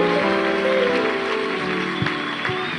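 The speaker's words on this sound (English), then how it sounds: "give the Lord a clap of your hands" A church congregation claps its hands at a Sunday service, producing steady, dense applause that fills the room and fades a little toward the end, with a few sharper claps standing out near the close.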